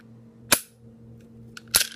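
Two sharp metallic clicks from an empty handgun dry fired after an Apex trigger install, each a crisp close snap, the second slightly doubled, with near silence between them.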